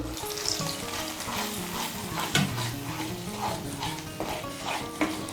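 Cumin powder sizzles in a hot pan as a little water is poured in, a steady close frying hiss with bursts of spatter and occasional scrapes, while the spiced potato curry base cooks.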